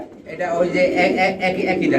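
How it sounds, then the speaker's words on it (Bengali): Soft, low cooing from Beauty pigeons close by in a coop, steady and murmuring, with someone speaking over it. "এই কুপটার মধ্যে রয়েছে আরেক জোড়া বিউটি কবুতর"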